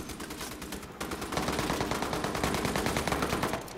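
Rapid automatic gunfire in a video game, a loud, steady stream of closely spaced shots that intensifies after the first second and continues to the end without speech.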